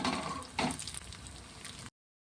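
Sweet dumplings frying in oil or ghee for a Holi treat give a soft, steady crackling sizzle with a brief louder burst early on, quiet throughout and cutting off abruptly before the end.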